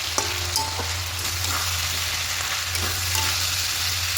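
Mixed vegetables fry lightly in a pan, a soft continuous sizzle with occasional stirring scrapes and clinks, close and steady with no voices.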